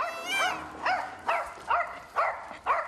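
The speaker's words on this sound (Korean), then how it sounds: "그런데 한성이가 짖을 때마다 심기가 영 불편해 보이는 뭉치" A dog barks repeatedly outdoors on a walk, five or six loud, rising yelping barks in a steady rhythm, close to the listener with no talking.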